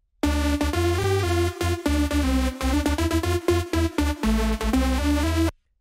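A deep three-layer sub bass made in the Serum synthesizer and shaped with EQ plays a choppy, pulsing pattern. Loud, dense tones stop and start repeatedly in a rhythmic phrase with no talking.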